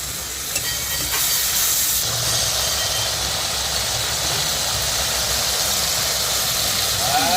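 Aloo bhuna potato curry sizzles loudly in a wok, seasoned with cumin powder, as a little water goes in, giving a steady, continuous hiss that lasts throughout with no pauses.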